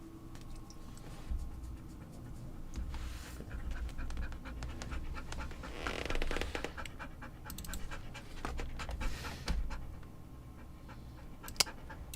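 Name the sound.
dog panting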